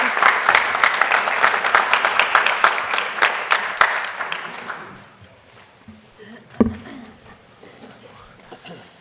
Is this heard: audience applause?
yes